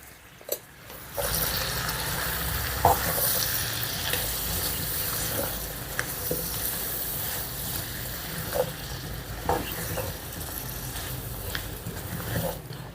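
Brinjal and peas curry with turmeric, salt and chili powder stirred in a pan: a continuous close sizzle with scattered clinks and scrapes of the spoon throughout, no talking.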